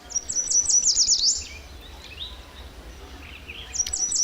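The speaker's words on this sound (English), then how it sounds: "Let's hear what the yellow warbler has to say and maybe a little picture." Recorded yellow warbler song plays during a live radio broadcast at a library: bright, rapid high-pitched chirped phrases, a pause with faint softer notes, then the song phrase returning near the end, over low background hum.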